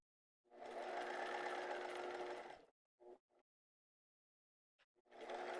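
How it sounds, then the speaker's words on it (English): A sewing machine stitches along a marked line on fabric, one steady run of about two seconds, then a few brief stutters and a fresh run starting, close and clear with no talk. "you're going to sew right on that line, directly on the line."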